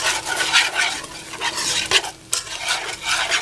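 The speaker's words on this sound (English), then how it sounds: "Keep moving around, keep stirring." A utensil stirs a cheese and milk sauce in a hot pan for BBQ nachos, making loud, close, rhythmic scraping strokes over a bubbling sizzle, with one brief pause partway through.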